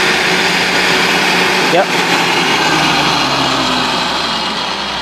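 An SRM (switched reluctance) electric motor runs up to about 880 RPM on a test bench, giving a steady, loud whine and hum throughout, with a brief dip near the middle and a person speaking briefly over it.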